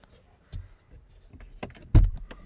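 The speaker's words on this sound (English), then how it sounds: "Let's just turn the ignition off, open and close the door." A Range Rover's door is opened and closed with the ignition off, giving a few soft clicks and shuffles followed by a solid, close thump of the door shutting, with no talking.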